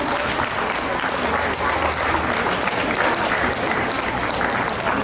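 A large audience gives loud, sustained applause to welcome a guest at a birthday celebration, dense continuous clapping that fills the hall evenly from start to finish, with faint voices underneath.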